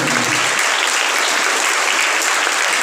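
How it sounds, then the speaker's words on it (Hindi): Loud, dense applause from a church congregation at Sunday Mass, steady clapping filling the space with no voices over it. "एक मरतबा जरूर इनके लिए जोरदार तालियां दें।"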